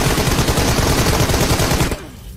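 Rapid bursts of automatic gunfire in a shooting video game, loud and continuous for about two seconds before cutting off abruptly into quieter background.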